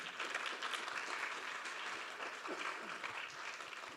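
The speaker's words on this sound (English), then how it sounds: "Big round of applause for Pauline for this summary." An audience at an EU conference on ocean governance applauds steadily, a dense, even wash of many hands clapping throughout.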